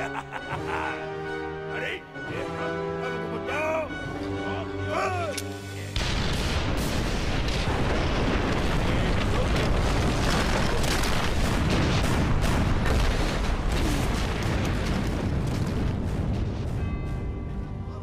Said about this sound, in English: Oh my god, that's a lot of dynamite.